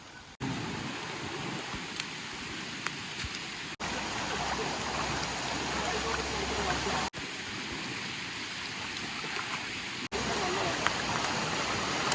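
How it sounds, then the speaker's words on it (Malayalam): Floodwater covering a road rushes in a steady, broad roar, loud and continuous across several abrupt cuts between takes. "റോട്ടിൽ മൊത്തം വെള്ളം കയറി"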